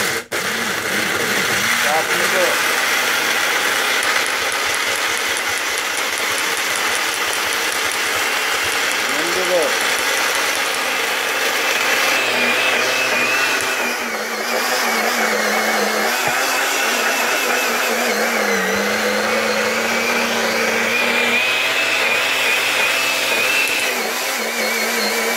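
A blender mixes homemade roach chow ingredients with a loud, continuous motor whir that holds steady from start to finish, close by and with no talking over it.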